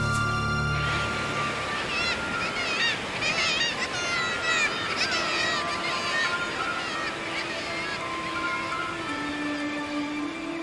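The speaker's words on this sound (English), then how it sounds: "Cliffs towering over the Arctic seas are alive with nesting seabirds" A dense chorus of seabirds nesting on towering Arctic sea cliffs, with many overlapping honking and squawking calls rising and falling continuously at close range.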